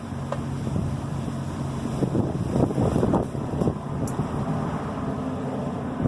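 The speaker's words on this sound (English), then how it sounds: "the wind is probably not helping" Wind blows outdoors over concrete, buffeting the microphone as a steady, fairly faint rushing noise with low gusty rumbles and no talking.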